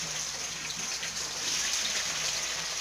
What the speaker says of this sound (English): drain the water as much as you can